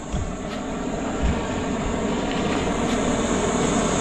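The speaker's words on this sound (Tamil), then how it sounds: "மக்களே பார்த்தீங்கன்னா நமக்கு வந்து பயங்கரமாக வந்து ஒர்க் அவுட் ஆகிட்டு இருக்கு நம்மளுடைய அந்த ஸ்மோக் மிஷினு" A mosquito-repelling smoke fogging machine runs with a loud, steady droning roar and a constant high whine, close by and unbroken throughout, with no voices.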